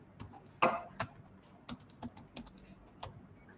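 Keys on a computer keyboard click in short irregular bursts, close and clear, with a few louder strikes among lighter taps and brief pauses between them.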